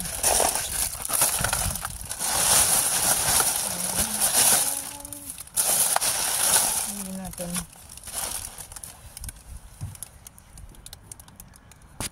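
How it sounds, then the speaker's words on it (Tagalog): Heavy rain pours outdoors in a steady broadband hiss with patters and crackles, loud and continuous while a voice talks over it in Filipino. "Lumalagsak ng ulan."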